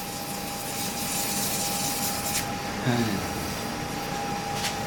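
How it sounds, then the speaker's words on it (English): A copper kit pen spinning on a lathe at about 1500 RPM is sanded with 220 grit sandpaper, giving a steady mechanical whine and broad hiss with a soft rubbing texture throughout. "I'm going to take 220 grit sandpaper."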